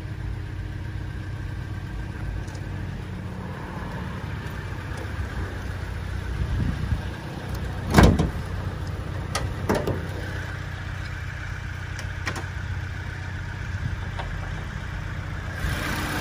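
A 2008 Toyota Innova with manual gearbox idles steadily with its engine bay open, a continuous low, even hum throughout, with a brief sharp knock near the middle and a few light clicks.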